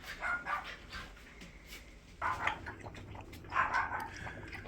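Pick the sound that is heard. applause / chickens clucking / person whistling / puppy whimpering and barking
puppy whimpering and barking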